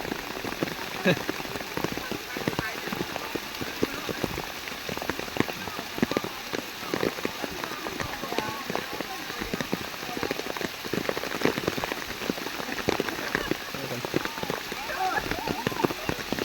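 Heavy rain pours steadily in a forest, a dense hiss of drops spattering on leaves and ground, with scattered louder splashes close by.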